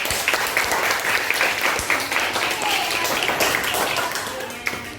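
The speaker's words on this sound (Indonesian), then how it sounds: "Give applause." A classroom audience at a junior high school in Tanjungpinang applauds with dense, lively clapping that lasts the whole span, with some voices mixed in.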